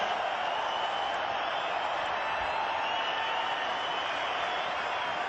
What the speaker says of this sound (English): All the youngsters there, and listen to the cheer.